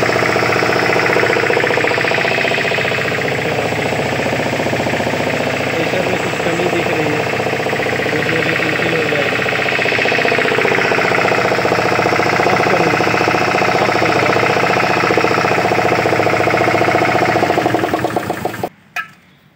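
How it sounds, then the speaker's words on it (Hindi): HTP pressure pump running, a loud, steady mechanical drone with rapid knocking vibration that goes on for a long stretch, then cuts off abruptly near the end. "पहले हम लोग मशीन को स्टार्ट करके इसकी प्रेशर चेक करते हैं"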